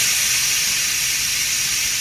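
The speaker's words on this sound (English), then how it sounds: "Press the steam release button to allow steam to quickly release from the cooker." Steam blasts from the quick-release valve of a Hamilton Beach 6-quart multi-function pressure cooker, making a loud, steady hiss that holds constant and unbroken from start to finish.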